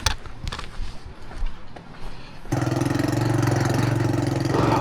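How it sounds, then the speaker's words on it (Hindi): A motorbike engine, newly running after a makeshift repair, kicks in partway through after some handling noise and then idles steadily and loudly close by. "बाइक चलने काबिल हो गई है। बस थोड़ी सी आवाज़ देना स्टार्ट कर दी है इसने।"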